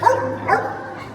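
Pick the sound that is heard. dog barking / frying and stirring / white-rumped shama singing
dog barking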